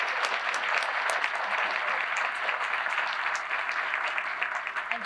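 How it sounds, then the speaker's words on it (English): Sustained audience applause for award finalists and recipients at the 2025 Athena Awards ceremony, a dense, even wash of many hands clapping at a steady loud level throughout, with no one talking over it. "one last round of applause for our finalists and for our 2025 recipients"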